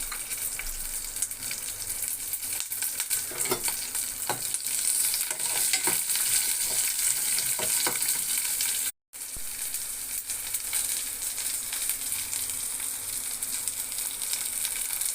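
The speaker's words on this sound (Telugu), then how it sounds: "కరివేపాకు వేసుకుందాం ఉల్లిపాయ ముక్కలు వేసుకుందాం పచ్చిమిరపకాయలు కూడా వేసుకుందాం" Curry leaves, chopped onions and green chillies fry in hot oil for vermicelli upma, giving a dense continuous sizzle with stirring scrapes, broken once by a brief dropout.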